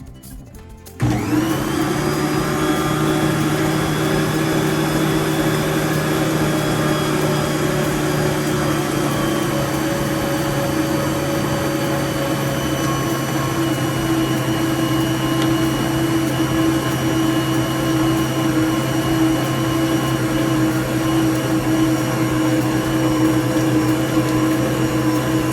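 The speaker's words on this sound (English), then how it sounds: "Again, turn your mixer on." Stand mixer starts up after a second and runs steadily, kneading whole wheat bread dough with a loud, continuous motor hum and whine that holds unchanged for the rest of the clip, with no talking.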